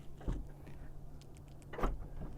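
Electric sliding doors on a Chrysler Pacifica minivan start opening automatically after a key press, with a soft motor whir and a couple of muffled clunks from the door mechanism close by.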